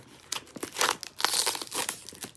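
A Nykaa makeup parcel is unpacked by hand, its plastic wrapping crinkling and tearing close by in quick irregular bursts, with short pauses between handfuls.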